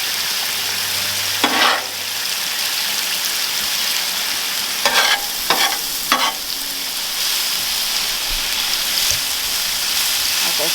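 Onions and peppers sizzle in a pan, a loud constant hiss with a few brief scraping stirs, close up with no talking.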